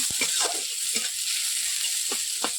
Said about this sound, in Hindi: पियाज पकेला अल्प टे लाल हो आसला